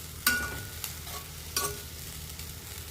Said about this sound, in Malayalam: ചെറുതായിട്ടൊന്ന് ഇളക്കി കൊടുക്കാം.